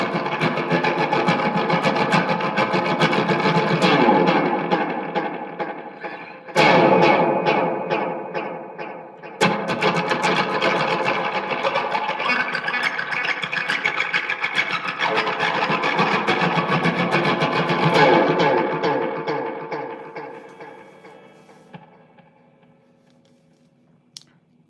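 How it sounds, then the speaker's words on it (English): An electric guitar played through a delay pedal rings out in dense, sustained chords with echoing repeats. Two sharp strums cut in along the way before the notes fade to quiet at the end. "this delay pedal,"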